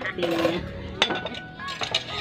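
Plates and cutlery clink at a family mealtime in a poor household, with sharp ceramic and metal taps scattered over a couple of seconds amid background talk.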